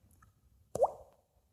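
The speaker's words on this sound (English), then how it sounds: "a large drop of water fell on him" A single large drop of water lands with a sharp, wet plop that quickly fades, alone in near silence.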